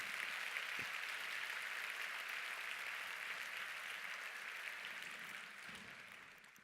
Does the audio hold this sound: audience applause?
yes